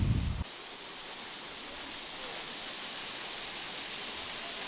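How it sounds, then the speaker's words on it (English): A waterfall in Amasra, Turkey, on the Black Sea coast, a steady broadband hiss of falling water, close and even, after a brief low thump at the start. "we got here to the waterfall, as you can see right here behind me"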